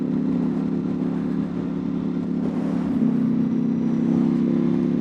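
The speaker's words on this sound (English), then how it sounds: "this thing actually runs pretty smoothly. Only the idle is feeling a little bit lumpy." A modded 2025 Ducati Panigale V4 engine idles with a lumpy, uneven beat, a steady close-up rumble that holds for the whole stretch with no voices.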